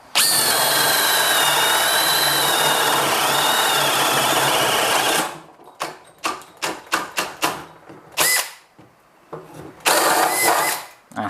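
A cordless drill on second gear bores into wood, whining steadily for about five seconds, then a series of short, sharp bursts and brief revs follow with pauses between.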